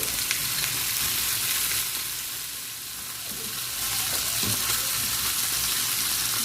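Chicken frying in a pan with onion and garlic for chicken afritada, a steady loud sizzle running throughout with faint stirring, no talk.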